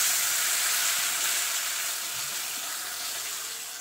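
Masala sizzles in hot oil in a kadai with dry red chilli and cumin, a steady, fairly close, bright frying hiss that slowly fades a little, with no talk.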